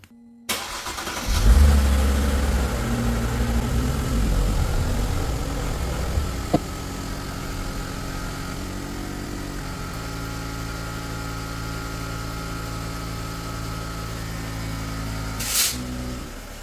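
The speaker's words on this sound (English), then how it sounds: "now it's time to start the engine and see how it goes up" A car engine cranks and catches, then settles into a steady idle close by, heard right after front Airmatic air strut replacement, with a brief click and a later short burst near the end.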